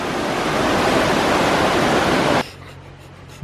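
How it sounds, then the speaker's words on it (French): A small stream flows past a house and garden in the hot-spring town of Zao Onsen, Japan, giving a loud, steady, close rushing of water that cuts off abruptly after about two and a half seconds. "Et le petit ruisseau là qui coule tranquillou."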